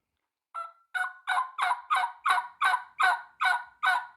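A hand-operated turkey call plays a rollover hen yelp, a series of nine evenly spaced, raspy, nasal yelps delivered close and clear in a steady rhythm with no talking, imitating a wild turkey hen.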